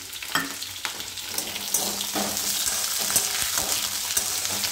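Sweet corn curry with tinda sizzling in a hot pan while being stirred, a continuous close frying hiss broken by irregular scraping strokes of the spoon, with no talking.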